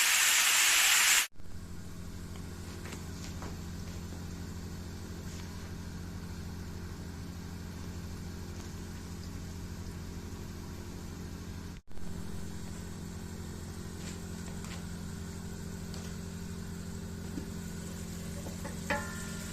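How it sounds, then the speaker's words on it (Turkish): Meat cooking in a covered sac pan for sac kavurma over medium-low heat without added water, a steady low sizzle and hiss that runs on evenly at moderate level, with no talking. "birazcık orta kısıklığa getirerek eti pişirmeye bırakıyoruz"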